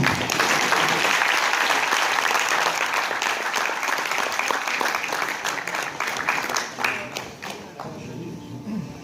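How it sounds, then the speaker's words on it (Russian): Sustained applause from a seated crowd at an indoor community celebration, dense steady clapping filling the room for several seconds before thinning out near the end. "под бурные аплодисменты"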